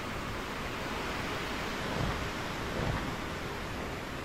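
Steady rushing rain with low rumbling thunder in a storm at sea in the sailing game Sailwind, a dense continuous roar with two soft swells of rumble and no talking.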